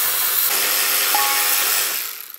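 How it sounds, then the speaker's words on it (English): A tool unbolts a self-tapping screw on a trailer with a brief burst of rapid ratcheting, loud and close, before trailing off into quiet. "So just unbolt these."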